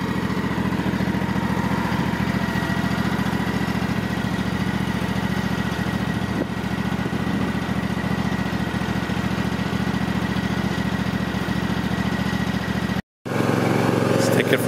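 A brand new Husqvarna TS 248XD garden tractor runs just off its trailer, with a steady loud engine drone and mechanical rattle that continues for the whole span, broken only by a brief dropout near the end.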